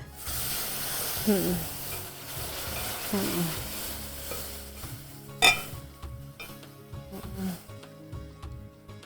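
Milk cooking over a low flame in a pan while a spoon stirs it, soft scraping strokes over a faint bubbling sizzle, with one sharp utensil clink partway through and kitchen noise in the background.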